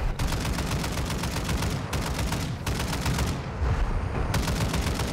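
A turret hammers out rapid automatic fire in DMZ, a dense, steady stream of loud shots that runs almost the whole time and breaks off only in a couple of brief pauses.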